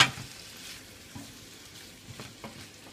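Minced pork frying in a pan for Thai pad kaprao with chilli and garlic, a steady broadband sizzle with occasional stirring scrapes, close and moderately loud, no voices.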